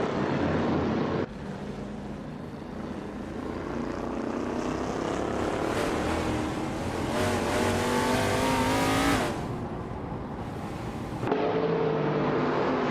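Race cars, including a Plymouth Roadrunner, roar past in a continuous, loud engine drone with rising and falling pitch as cars pass and shift, and no talk over it.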